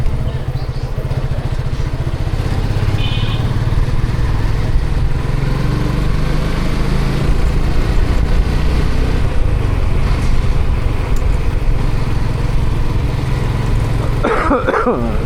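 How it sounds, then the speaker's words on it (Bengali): A motorcycle ridden on a foggy winter morning commute to the office, its engine a steady loud rumble throughout with wind noise, and a brief cough from the rider near the end. "আজকে বাইক নিয়ে অফিসে যাচ্ছি"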